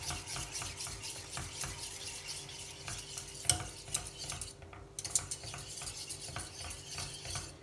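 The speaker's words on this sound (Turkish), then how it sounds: "yumurtanın dağılıp karışması için süt ile birlikte sürekli karıştırıyorum" Egg yolk is stirred into milk in a pot with a spoon, giving steady scraping and soft clinking against the metal at close range, with a few sharper knocks around the middle and no talk.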